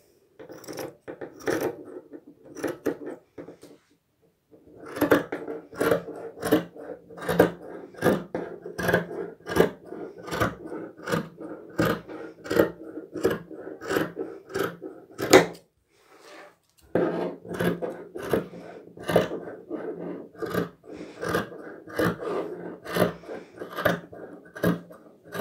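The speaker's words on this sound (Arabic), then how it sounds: "غادي نجيب المقص وغادي نقطع" Scissors cutting fabric for a cardigan, a series of crisp rhythmic snips in steady runs broken by a couple of short pauses, close and clear with no talk.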